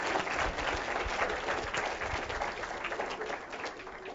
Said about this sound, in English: If we could kindly give him a quick round of applause again.